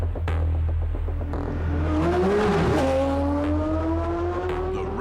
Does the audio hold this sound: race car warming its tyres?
yes